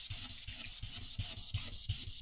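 A knife blade is rubbed on 1000-grit sandpaper in steady, rapid back-and-forth strokes, a close, rhythmic raspy scratching of about five strokes per second with no talking.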